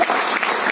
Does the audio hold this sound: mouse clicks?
no